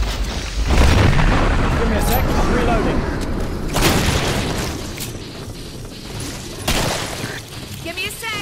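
Boomstick double-barrel shotgun blasts in the zombie-horde shooter Killing Floor, with a loud boom near the start and later sharp reports amid dense, chaotic combat noise and clattering action.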